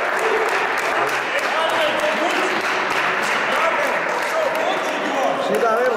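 Steady applause from a crowd at a basketball tournament awards ceremony, honouring the Smiltene team's coach, a dense, loud, continuous clapping that fills the hall, with voices murmuring underneath.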